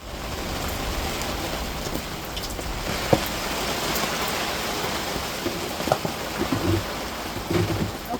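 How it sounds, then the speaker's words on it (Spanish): Steady rain pours down during a storm aboard a boat, a dense close hiss with scattered louder drops and knocks on the deck and hull. "Para de llover, estamos hace 2 días de tormenta"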